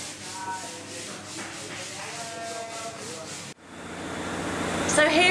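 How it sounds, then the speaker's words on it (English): Steady abrasive rubbing of sanding a sprayed high-build polyurethane coating on honeycomb boxes during a boat refit, continuous and close, with a brief break midway before the scraping resumes slightly louder. "now they're sanding it back to give a lovely smooth finish"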